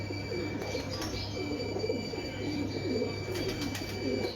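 A pigeon of rich, rare colouring coos in repeated soft, low rolling phrases close by, over a constant background hum, with no one speaking.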